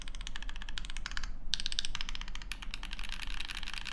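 Mechanical keyboard typing on a Monokei x Singa Neko prototype, with steady clacky keystrokes in quick runs, a brief pause, then more rapid close-up typing over a low hum.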